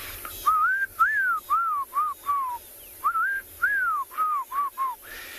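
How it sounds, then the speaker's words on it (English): A black-crowned tchagra's clear, rising-and-falling whistled notes repeated in two phrases, loud and near against a quiet safari background at sunset. "There's a black-crowned chagra that's calling. That's the one making those whistles."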